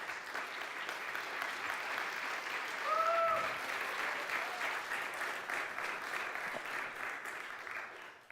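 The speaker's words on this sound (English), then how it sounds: "So then we can give yourself a round of applause." Chickens outside cluck and squawk faintly in the distance, heard from inside a barn, a few short calls against a steady hum and a couple of soft knocks.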